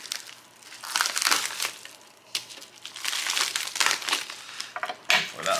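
A tight plastic package is cut open with crinkling, crunching bursts of plastic handling and snipping, irregular and close, with a few sharp crackles.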